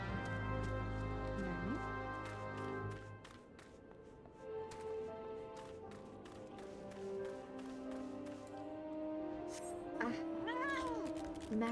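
A cat meows in the video game Final Fantasy XIV, a short pair of meows near the end over soft sustained background music and light tapping.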